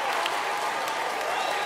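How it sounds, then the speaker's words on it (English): Audience applause for an act at the Nigeria's Got Talent semi-finals, a steady wash of clapping and crowd noise at full level with voices mixed in, fading at the end. "Can we get a round of applause for him?"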